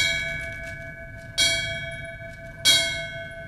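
Two loud, ringing strikes of a ceremonial bell, spaced about a second and a half apart, tolled at a Patriot Day remembrance honoring fallen first responders; each strike decays slowly over a steady background hum.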